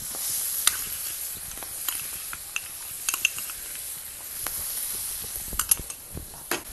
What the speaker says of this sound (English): Now we're going to put in the doubanjiang.